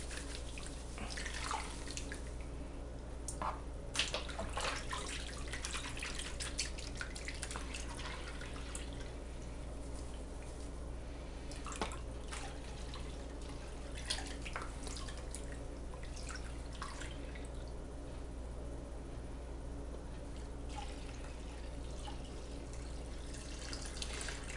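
Water sloshing and dripping in a tub being cleaned out during gold panning, a continuous wet splashing with irregular drips and splashes over a low steady hum, close, with no talking.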